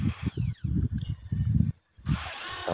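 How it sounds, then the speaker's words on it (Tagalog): Power drill boring holes in metal angle bar for sidecar brackets, heard as choppy, pulsing low grinding bursts that briefly stop, then a rising high whine as the motor spins up again. "Magbubutas na tayo dito na nga para sa mga angle bar para sa ating mga lalagyan ng tornilyo."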